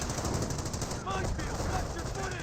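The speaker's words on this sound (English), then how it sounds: "Got a 30 cal here to protect the 30 cal." A .30 cal machine gun fires in a Company of Heroes match, with dense overlapping bursts and gunfire crackling continuously under a commentator's voice.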